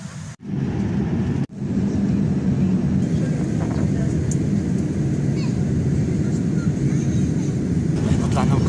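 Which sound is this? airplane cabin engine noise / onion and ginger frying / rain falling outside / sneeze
airplane cabin engine noise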